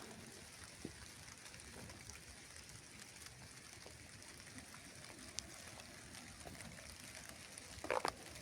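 Quiet, steady patter of rain falling through a wooded area, a soft continuous hiss with occasional drips, faint and distant.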